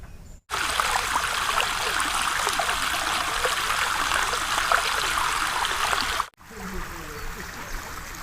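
A steady, loud hiss of water spraying over vegetable crops on a farm runs for several seconds, cutting off abruptly before quieter outdoor sounds return.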